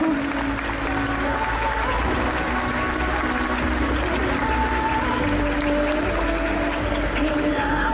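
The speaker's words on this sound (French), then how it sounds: "On va l'applaudir très très fort, s'il vous plaît." An indoor audience claps steadily at a cosplay parade at a convention, sustained dense applause filling the hall throughout, with faint crowd murmur underneath.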